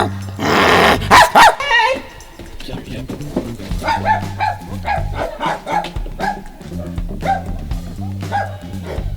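Small dog yapping in short sharp barks and yips near the start, then further scattered barks mixed with people talking nearby in a busy household setting.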